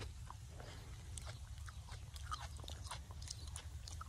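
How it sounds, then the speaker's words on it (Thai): A fresh, chemical-free GAP-certified cherry tomato bitten straight from the vine, giving soft crunchy chewing bites against steady low outdoor background noise. "นี่ครับกัดเลยนะครับไม่ใช้เคมีเนาะ"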